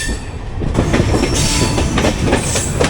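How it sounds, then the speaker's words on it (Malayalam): The 12201 Garib Rath Express from Mumbai LTT to Shoranur runs through Diva station, heard from on board as a loud, close, continuous rumble of wheels with rhythmic clatter and faint metallic squeal. "അപ്പോൾ അങ്ങനെ ദിവാ സ്റ്റേഷൻ വഴിയുള്ള റൺ ത്രൂ ആണ്"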